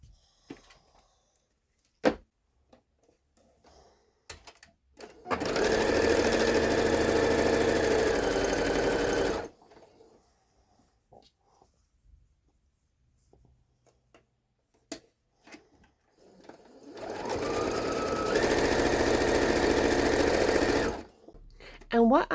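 Sewing machine chain-piecing fabric squares for a patchwork draft stopper runs in two steady bursts of several seconds each, separated by quiet pauses with faint clicks and handling noises.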